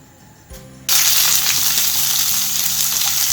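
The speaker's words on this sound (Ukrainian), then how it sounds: "Підсмажую трошки цибульку" Onion hitting hot oil that garlic was just fried in, a loud steady sizzle bursting up after a brief clatter and holding evenly, with no talking.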